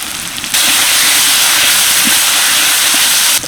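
Fried potatoes tipped into a hot, ready spice mixture for a ridge gourd vegetarian curry, setting off a loud, steady sizzle that starts abruptly and holds, with a few faint clinks beneath it and no talking.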